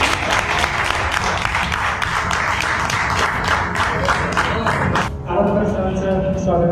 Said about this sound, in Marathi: सर्वांनी विनंती आहे की टाळ्या घेऊन पुन्हा स्वागत.